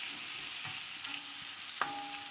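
Onions brown in a pan for chicken biryani with a soft, continuous sizzle, punctuated by a faint stirring scrape and one brief metallic clink near the end. No one speaks.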